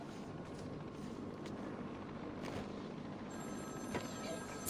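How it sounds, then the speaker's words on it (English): A telephone rings somewhere in the game world of Batman: Arkham City, a faint repeating ring buried in steady in-game ambience and movement noise, with no talk over it. "There's a phone ringing somewhere."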